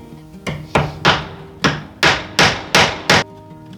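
Sharp hammer blows on wood during construction of a solar kiln, seven strikes in an uneven rhythm, close and loud, each ringing briefly before the next.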